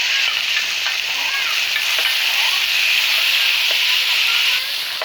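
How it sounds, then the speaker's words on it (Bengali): Chicken pieces stir-fried in oil in a pot over a village wood-fired stove for chicken biryani, giving a steady, loud sizzle and crackle with faint stirring scrapes that runs continuously without talk. "এবার মাংসগুলা ডাইল্লা দিয়া পালা কইরা কষামো।"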